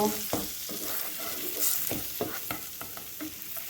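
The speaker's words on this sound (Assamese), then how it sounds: "এতিয়া আমি ইয়াত কাশ্মীৰী মিৰ্চটো দি দিম আৰু পুৰি যাব নিদিওঁ, লাৰি দিম।" Kashmiri chili is stirred into melted butter in a pan, a gentle sizzle broken by repeated scraping and clicking strokes of a spoon at an irregular rhythm, close by and without speech.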